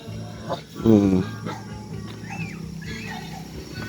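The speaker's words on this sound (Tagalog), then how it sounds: "May aso." A dog gives a short bark amid background chatter and household noise, with people talking nearby.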